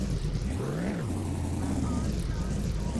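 A car engine with an exhaust fault idles in the My Winter Car video game, a low rough droning hum that swoops up briefly then settles into a steady buzzing tone while someone talks over it.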